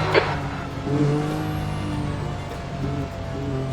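Simulated Formula NA 2021 IndyCar engine on a hot lap in Virtual Racing Cars, a sustained high-revving drone with shifting pitch and whine, loud and continuous throughout with no talk.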